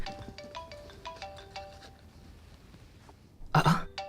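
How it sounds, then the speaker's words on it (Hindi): A phone ringtone signals an incoming call: a repeating melodic electronic tone pattern plays steadily, then fades and is cut off by a short loud burst near the end. "ये मेहमत क्यों फोन कर रहा है मुझे?"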